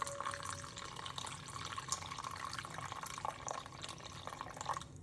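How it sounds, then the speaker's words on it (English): Water poured from a container onto a kitchen scale while measuring 300 grams for bread dough, a steady close splashing and trickling stream with small drips, continuous throughout. "I just pour water until I reach 300"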